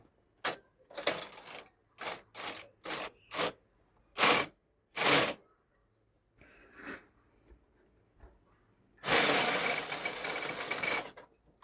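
A knitting machine carriage knitting an adult T-shirt with fine yarn makes a run of short, sharp mechanical clacks and swishes in an irregular rhythm, then settles into a longer, louder sustained rasping pass near the end.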